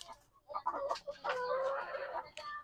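Chickens clucking softly on a small farm, a string of short close clucks and murmured calls in quick bursts, faint and alone with no talk.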